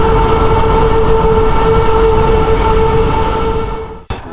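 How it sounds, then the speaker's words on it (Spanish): Huge ventilation fans circulate air with a very loud, continuous roar and a steady hum, close and overwhelming, before the sound drops out abruptly near the end. "ahí pusieron unos ventiladores enormes para aspirar el aire o que circule el aire por aquí"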